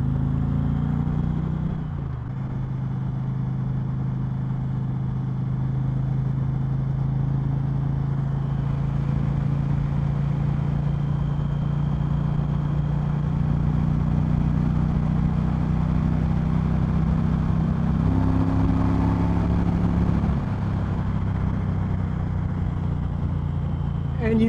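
Indian Challenger motorcycle engine pulling steadily away in sixth gear on a highway ride, a continuous low drone that rises slightly in pitch with wind rush, sustained and fairly loud throughout.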